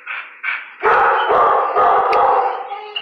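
A dog in a shelter kennel gives two short whining yips, then a run of loud, close, howling barks lasting a couple of seconds.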